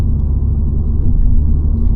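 A 2025 Mini Cooper S engine holds a steady, elevated idle-like drone in go-kart mode, a continuous low rumble with no rise or fall, close and fairly loud throughout.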